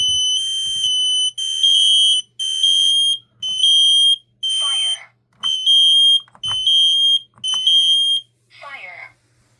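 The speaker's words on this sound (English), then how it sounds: "The first alarm we're going to test is the Kidde" A Kidde i12060 smoke alarm sounds during a test, blaring loud, piercing electronic beeps in an even repeating pattern of on-off bursts, with brief voices heard faintly between some beeps.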